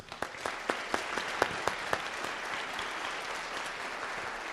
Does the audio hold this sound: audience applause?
yes